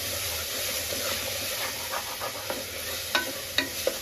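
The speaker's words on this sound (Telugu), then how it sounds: "ఇది అడుగున అడుగంటి పోకుండా మధ్య మధ్యలో ఒకసారి కలుపుకుంటూ ఉండాలి" Tomato curry sizzles steadily in a pan on the stove while a spoon stirs it, with a few light clicks and scrapes near the end.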